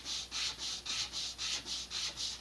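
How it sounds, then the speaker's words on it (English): Sandpaper rubs over small model rocket kit parts in nine even back-and-forth strokes, a soft, close, rhythmic scratching with quiet pauses between passes and no voices. "Grab a piece of sandpaper,"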